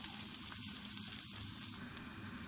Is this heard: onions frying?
yes